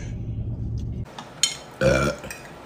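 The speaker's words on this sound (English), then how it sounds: "Oh, I'm gonna burp." A girl lets out a loud, drawn-out burp in the middle of the clip, with a quieter gassy noise just before it and faint background sound around it.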